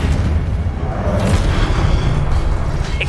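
A Confringo blasting spell from Hogwarts Legacy booms in a loud, sustained low rumble with crackling debris, dense and close throughout.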